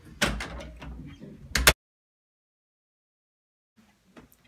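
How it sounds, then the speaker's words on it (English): A bedroom door swings shut with a sharp slam and a short rattle after some shuffling movement, followed by a long silence and faint knocks. "I'm just gonna close my door."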